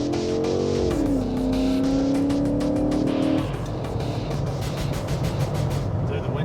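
A Dodge Charger police cruiser on upgraded brakes pulls down from 60 mph in a stop test: engine drone falls in pitch under road and wind roar, then fades into a lower rumble, heard from inside the car.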